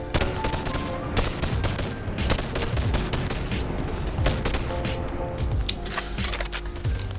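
Enemy gunfire in the Bonelab VR video game crackles in rapid, dense bursts of sharp shots, continuous and fairly loud throughout with a brief sharper crack near the end.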